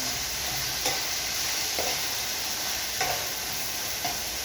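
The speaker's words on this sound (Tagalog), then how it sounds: "Hindi ko tinigilan na maghalo kasi hindi lalabas yung katas ng kamatis." Tomatoes sizzle steadily in a hot frying pan, with a spatula scraping through them in a few brief strokes over the constant frying hiss and no talk.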